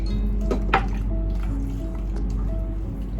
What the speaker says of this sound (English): So I'm gonna add the water because it's too much thick.